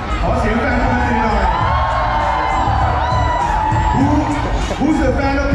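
Ducati fans cheer and shout at a MotoGP hero walk at the 2023 Thai MotoGP, a loud, dense crowd roar with whoops rising in bursts while an announcer's voice cuts through.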